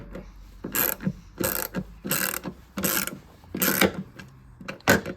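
Ratchet wrench with a 10mm socket loosening the door bolts on a Mazda MX-5 NC (Mk3 Miata), giving about six bursts of rapid clicking in steady rhythm, close and clear with no talk.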